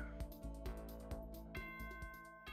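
Chiming tones of the nighttime announcement in the video game Danganronpa: Trigger Happy Havoc, a quick series of bright bell-like notes ringing over a low steady drone, no talk.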